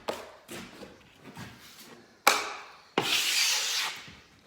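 Drywall knife scraped flat across joint compound on wallboard, a few short scrapes followed by a longer, louder rasping drag, close up with no talking.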